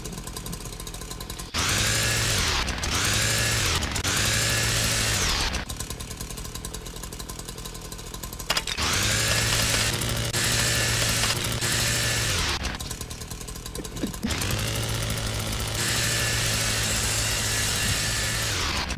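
A virtual chainsaw in a VR game revs repeatedly, with three loud sustained bursts of high buzzing engine separated by lower idling stretches, and no talk over it.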